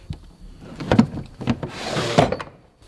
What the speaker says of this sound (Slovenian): Pa na strani tudi nekaj špegle, itak električno nastavljiv.